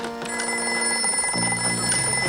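A telephone rings in a comedy sketch, its bright electronic trill with steady high tones sounding continuously and fairly loud for a couple of seconds, with low musical tones underneath and no talking.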